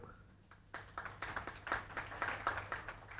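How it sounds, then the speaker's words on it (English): A round of applause at a dinner event, quiet and somewhat distant, with scattered claps building into a steady uneven patter from a modest crowd. "kindly encourage each of us by a round of applause"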